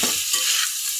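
Food stirred and frying in a pan on a gas stove with rain falling outside, a steady bright sizzle with soft scraping stirs, close and continuous.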